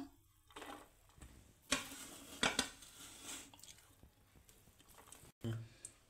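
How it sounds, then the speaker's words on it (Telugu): Chicken dum biryani served from the pot onto a plate: a few separate metal scrapes and clinks of a spoon against cookware, with soft shuffling between them and a quiet voice in places. "ఇప్పుడు దీన్ని ప్లేట్లోకి తీసుకుందాం."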